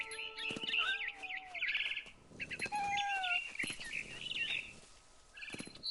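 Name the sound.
barn swallow chirping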